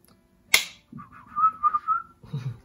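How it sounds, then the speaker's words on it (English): An attempt at whistling: a sharp click, then a wavering, breathy whistled tone that rises and falls for about a second before fading into low background noise. "Cannot whistle."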